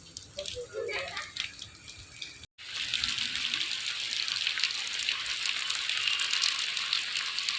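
Water running along a trough-like stone channel at an old Jain temple: a steady, broadband rush that fills most of the stretch after a brief break, with faint voices near the start.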